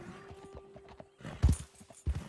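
Horse hooves clopping in Red Dead Redemption 2 as a rider guides the horse over rough ground, a few soft steps giving way to louder, heavy thuds near the middle and again toward the end.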